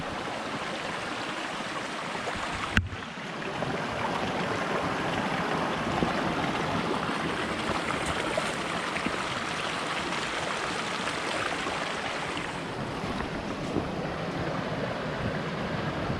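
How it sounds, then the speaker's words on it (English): Stream water at Kanarraville Falls rushes steadily and loudly around someone wading through it, a constant broadband wash with one sharp knock early on and no voices. "We will walk through the water"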